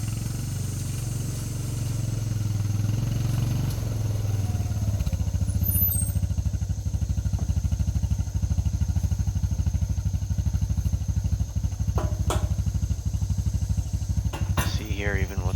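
A four-wheeler ATV engine runs steadily nearby in a wooded yard, its low throbbing idle rumbling with even pulses, broken by a few brief clanks and rattles toward the end.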